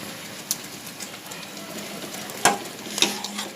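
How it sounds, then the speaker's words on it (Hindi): Hot ghee sizzles steadily in a pan as a tempering for moong masoor dal, with a few sharp crackles and pops standing out near the end. "फिर इसको घी का तड़का लगाऊंगी।"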